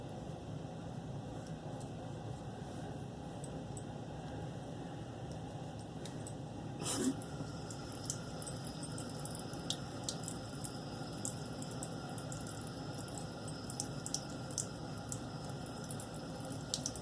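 Tap water runs steadily into a sink as shaving gear, a Merkur Futur safety razor, is rinsed under it. The flow is a continuous close hiss with one brief splash partway through and no talking.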